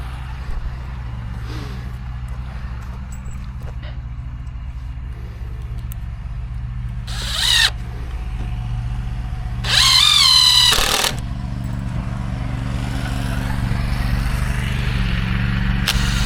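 Four screws driven with a power drill during prep work for a concrete patio, heard as a few short whirring bursts, the longest near the end, over a steady loud low rumble of background noise.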